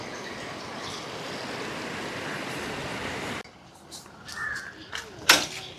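Fast river water rushes past a bridge broken in two at Mullaitivu. A loud, steady roar of flowing water cuts off abruptly midway, leaving quieter outdoor sounds with faint, scattered voices.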